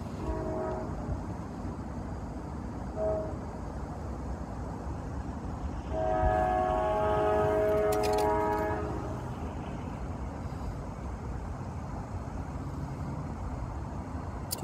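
A southbound CSX switcher train passes on track two at a grade crossing, its horn sounding loud and steady for a few seconds midway over continuous rumbling rail noise.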